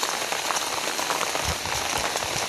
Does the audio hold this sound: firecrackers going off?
no